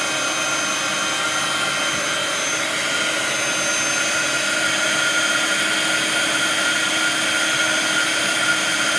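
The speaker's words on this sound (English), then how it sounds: "all this is doing is heating the powder and melting it so it becomes a raised very slightly raised image on there" Embossing heat tool melting powder on a stamped image at a craft table, a continuous even whirring blow of air with a faint steady hum, close and unchanging for the whole stretch.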